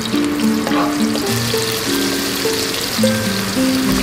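Broccoli cooking in a pan, a steady soft sizzle and crackle throughout, partly under background music.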